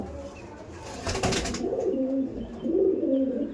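Domestic pigeons kept for sale, including a male, give soft low cooing calls in a couple of short rolling phrases, with a brief flutter or rustle just before them and no talk.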